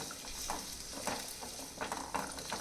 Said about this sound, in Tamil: சின்ன வெங்காயம் ஒரு 30 வெங்காயம் பார்த்திங்கன்னா ஒரு 1/4 கிலோவுக்கு பக்கமாக வரும். அதே மாதிரி வெள்ளைப்பூண்டு ஒரு 10 வெள்ளைப்பூண்டு ரெண்டையும் கொஞ்சம் நேரம் நம்ம எண்ணெயில் வதக்கி விட்டுக்குவோம்